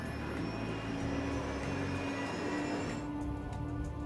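Airbus A380 airliner on its takeoff roll, a steady engine roar with a high whine held throughout, moderately loud and unbroken, without voices.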